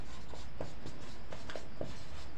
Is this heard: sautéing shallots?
no